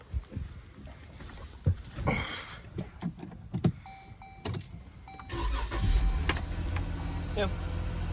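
A 2013 Jeep Grand Cherokee with a replaced fuel pump relay cranks briefly and catches, settling into a steady idle up close, after a jangle of keys and a few clicks.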